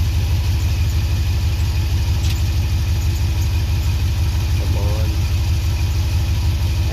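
A Toyota 22RE four-cylinder engine in a pickup idles steadily while warming up. The running is constant and throbbing, with a low pulsing drone close by and a brief faint squeak in the middle.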